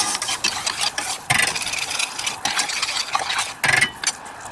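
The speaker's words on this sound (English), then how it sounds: "I'll give it another stir really quick." A spoon scraping and stirring balsamic chicken sauce with honey in a pan, uneven bursts of close scraping and clattering, fairly loud and alone.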